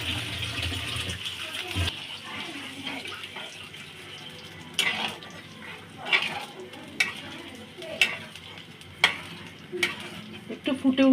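Chhana fritters bubble and simmer in a spiced gravy, a soft steady sizzle broken by intermittent stirring clinks and scrapes in the pan.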